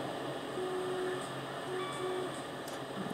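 A train in a train simulator game runs steadily as a continuous low rumble with faint tonal hums, heading toward Crewe, alone with no talk over it.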